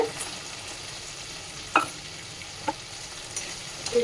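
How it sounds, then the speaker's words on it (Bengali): Ginger paste and tomato fry in a pan and get stirred, a soft sizzle running underneath while a few sharp scrapes and clicks from the spoon stand out, close and alone. "আদা বাটাটা দিয়ে একটু নাড়াচাড়া করে নেব।"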